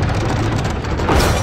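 An arrow loosed from a bow in Rise of the Tomb Raider, a sharp release that cuts across a dense, steady bed of game ambience, with a brighter swell near the end.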